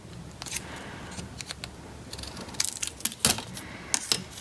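Scissors snip through paper for a handmade princess ornament, a run of short crisp cuts, some faint and a few louder bursts near the end, close by with no voices.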